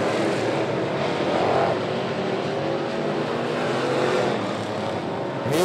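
Race cars roar past at speed during a Sportsman heat race at a dirt track near Sneedville, Tennessee, a loud continuous engine drone with a sharp rising whine near the end as one passes close.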